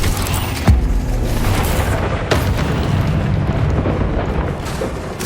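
Bombarda blast spell exploding in the Hogwarts Legacy video game, a deep booming burst that hits loud and close, followed by rumbling blasts and further impacts over a dense, continuous roar.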